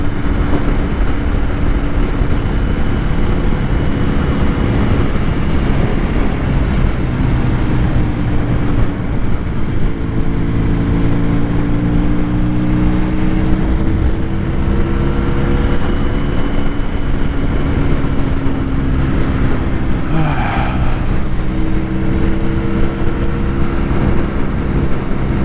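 A Honda VFR1200F motorcycle engine running steadily on the road, a loud, continuous drone with shifting harmonic tones as revs rise and fall, buried in heavy wind rush and without speech.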